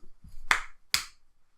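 A lone man claps twice on his own while filming a Formula 1 recap show, two sharp, close claps under a second apart, with a faint low murmur before them and quiet after.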